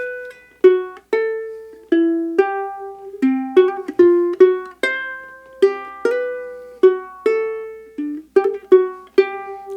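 Ukulele plucks the melody of Tchaikovsky's Waltz of the Flowers from The Nutcracker, first eight measures: a steady waltz-time sequence of clear single notes, each ringing and decaying, played solo up close.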